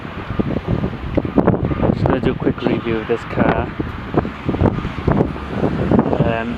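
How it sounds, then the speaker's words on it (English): Steady wind buffeting the microphone throughout, roaring under someone speaking close up beside a 2005 Vauxhall Vectra SRi 2.2 petrol on a very windy day. "So I've got here a very windy day"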